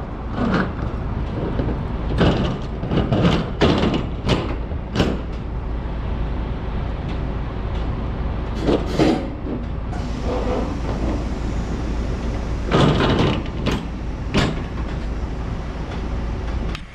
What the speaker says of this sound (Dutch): Nou, die deuren die gaan we even dichtgooien.